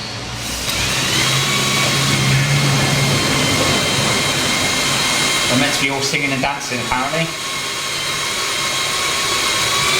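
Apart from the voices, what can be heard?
drill drilling out snapped exhaust studs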